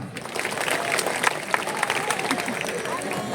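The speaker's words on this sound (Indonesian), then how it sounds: "Tepuk tangan." Clapping from a crowd at the opening night of the Bali Arts Festival, a brief burst of dense applause with scattered sharper claps, heard amid general crowd noise.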